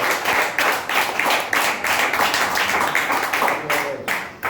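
Church congregation at a Pentecostal service clapping loudly in a steady, rhythmic beat of repeated claps, close and continuous throughout.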